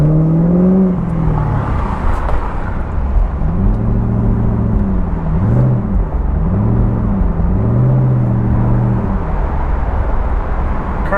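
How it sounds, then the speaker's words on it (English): A car engine in neutral runs with a steady rumble, its revs rising and falling several times, and a whining intake sound rides over the engine note. "Car makes a little bit of a whining noise because it's sucking in all that air."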